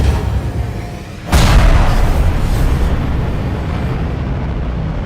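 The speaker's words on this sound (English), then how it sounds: "I layered a bunch of engine sounds with explosions to really give it that oomph." A Minecraft animation rocket launch effect: a loud roaring rumble swells abruptly into a booming blast, then sustains as a heavy, dense roar of layered engine sounds and explosions.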